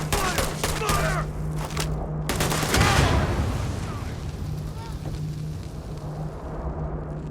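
Sustained gunfire in the video game Starfield, a continuous crackling volley of shots with a heavier burst in the middle, mixed with combat effects and fading gradually toward the end.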